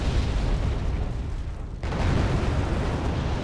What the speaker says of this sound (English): Hampton dropping a bit of nade on this BTR soap